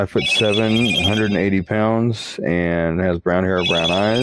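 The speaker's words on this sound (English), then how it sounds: "Sorry about my phone." A phone rings close by in a repeating electronic tone beneath continuous, loud talk, with the ringing audible mainly in the gaps between words.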